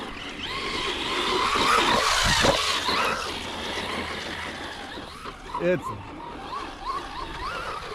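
A radio-controlled car spins its tires out on Talon EXT or Sledgehammer tires, a loud whirring motor rising and then breaking into a brief squealing slide, with a person talking over it.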